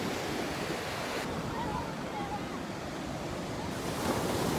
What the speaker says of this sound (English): The ocean is behind me.